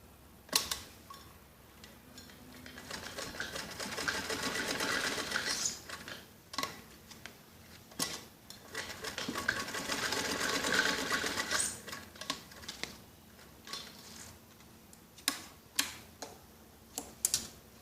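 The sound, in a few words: sewing machine stitching elastic into a kids' skirt waistband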